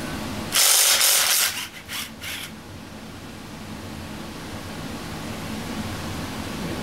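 Ratchet and sockets being handled while tearing down a 350 engine: a loud, brief burst of rapid ratcheting clicks and metallic rattle up close, then steady low background noise.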